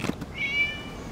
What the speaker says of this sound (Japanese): 猫か